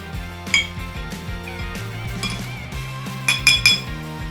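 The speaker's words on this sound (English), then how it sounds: "Right now I'm going to stir this up a little bit." A spoon stirs a bourbon cocktail in a glass, ringing out in sharp, bright clinks in quick clusters against the glass, close and clear with soft scraping between.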